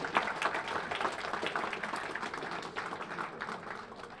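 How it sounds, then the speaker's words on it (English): Applause at a Turkey Bowl team luncheon, a moderately quiet, steady patter of many hands clapping throughout, gradually easing toward the end. "Let's give them another round of applause"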